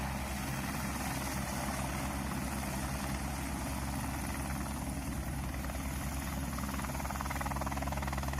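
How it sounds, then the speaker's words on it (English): Steady, loud helicopter rotor thrum near a landing area in New Zealand's South Island, a continuous whirring beat with a constant engine drone throughout, no voices. "I just sat down and watched the helicopters."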